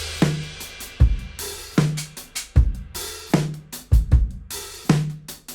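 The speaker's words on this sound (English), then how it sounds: "I just wanted to show you what the drums sound like" A recorded drum kit plays back a loud, punchy groove, with booming kick hits and crisp snare and cymbal strikes repeating in a steady rhythm, up close and with no talking.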